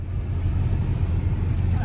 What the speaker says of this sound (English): I'm in the car right now and I'm on the way to school.